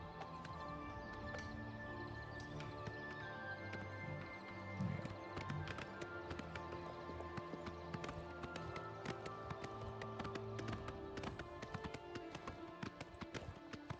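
Horse galloping in the video game Oblivion Remastered, a steady run of hoof clip-clops under game music and ambience, with a brief whinny and no talking.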